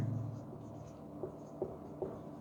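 Chalk or marker writing on a board in a math lecture, with faint scratchy strokes and a few soft taps at a low level and no talking.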